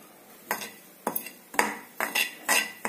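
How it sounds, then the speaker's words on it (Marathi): Dry coconut roasted and stirred in a dry pan, with about six distinct scraping strokes of a spatula against the metal, close and fairly loud, each separated by short pauses. "आता यामध्ये आपण सुके खोबरं भाजून घेऊयात."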